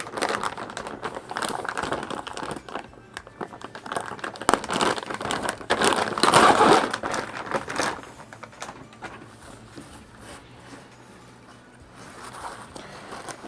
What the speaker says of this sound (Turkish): Hemen ürünü poşetinden çıkartalım.